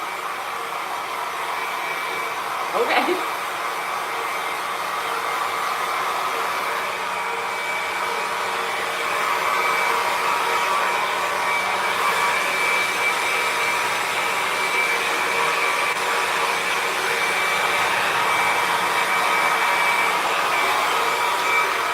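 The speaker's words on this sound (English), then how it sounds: "You want to hear the industrial strength 50-year-old hair dryer?" An industrial-strength, 50-year-old hair dryer runs with a steady, loud whirring roar that holds constant for the whole stretch, with one brief click near the start.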